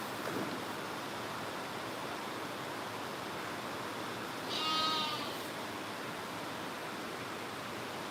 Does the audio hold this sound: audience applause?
no